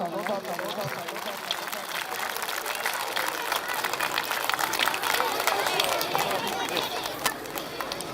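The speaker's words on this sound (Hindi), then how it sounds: "बशीर अहमद के लिए जोरदार तालियां" Steady applause and crowd noise fill a school's Children's Day ceremony as a student's parent is honoured on stage, with clapping and chatter continuing throughout at a fairly constant level.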